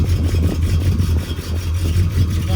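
An old car engine idles rough with a low, lumpy throb and uneven pulsing, steady and fairly close throughout, with no talking.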